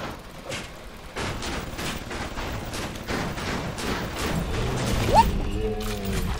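An automated turret in BioShock Remastered fires bursts of gunfire over a steady game background, with rapid repeated cracks and a few mechanical clanks near the end.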